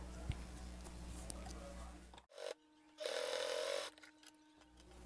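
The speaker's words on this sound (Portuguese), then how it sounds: "vou passar uma costura aqui, onde eu já passei a primeira costura da parte maior" A domestic sewing machine stitches a seam through fabric for a small wallet, a steady motor burst about a second long following quieter handling noise and a short pause.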